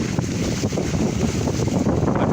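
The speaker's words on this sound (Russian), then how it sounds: "сегодня реально хороший ветер" Strong wind roars steadily outdoors on a forest walk, a dense low buffeting rush with microphone gusts, loud and continuous with no voices.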